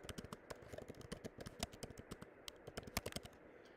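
Rapid typing on a computer keyboard, a dense run of crisp key clicks at an uneven rhythm, close and moderately loud, with no voices.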